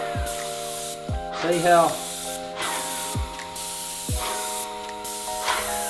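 Graco Contractor PC Compact airless sprayer fitted with a 308 tip spraying trim, giving repeated hissing bursts of spray about once a second, with someone speaking briefly between them.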